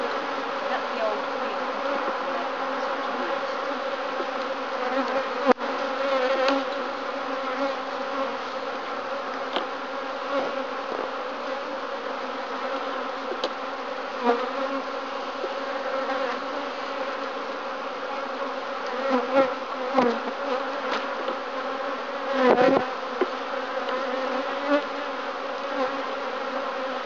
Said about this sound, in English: You sometimes get a big bunch of bees on the frame you put out.